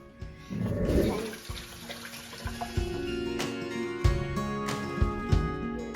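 Tap water runs into a sink while hands are washed, with gushing flow, splashes and a few clunks and knocks, at close range with no voices.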